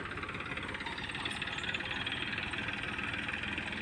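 A tractor engine runs steadily on a village farm field, giving a continuous mid-to-low rumble with a faint knocking texture, close and unbroken throughout.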